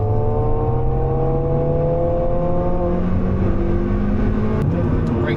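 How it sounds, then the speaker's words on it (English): Engine of a soggy old Mazda MX5 race car droning steadily as it drives out onto a wet track, pitch rising smoothly through a gear with road and spray noise beneath, loud and continuous from inside the cabin. "let's get belted up and head out onto track in this soggy old Mazda"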